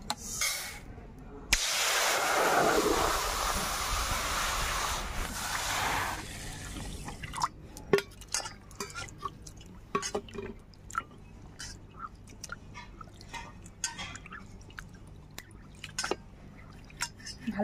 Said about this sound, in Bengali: ভালো করে ডালটা ধুয়ে নিলাম।